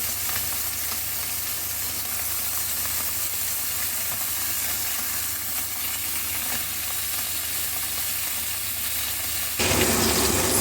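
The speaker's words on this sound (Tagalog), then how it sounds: "habang nagpiprito tayo" Fish and other ingredients fry in a pan with a steady, close sizzle that runs the whole time, then grows a little louder and brighter near the end. No one speaks.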